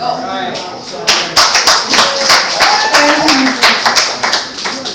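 A crowd clapping steadily, dense and close, with cheering voices mixed in throughout.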